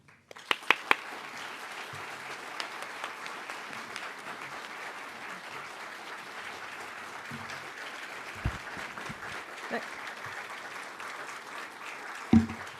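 An audience applauds a keynote speaker at a lecture event in a steady, sustained wash of clapping from a sizable crowd, moderately loud, with a few sharper claps near the start and end and no speech.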